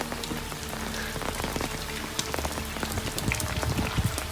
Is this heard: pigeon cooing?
no